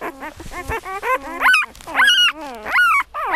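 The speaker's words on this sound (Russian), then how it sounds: "Вот этот орёт очень громко." A six-day-old bulldog-like puppy cries loudly and close, a run of high, wavering yelps and whines that rise and fall with short breaks between them.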